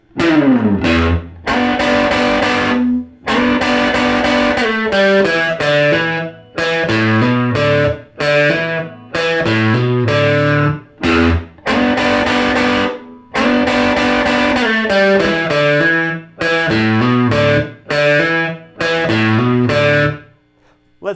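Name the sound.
electric guitar playing blues riff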